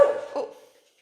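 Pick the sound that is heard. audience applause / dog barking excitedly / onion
dog barking excitedly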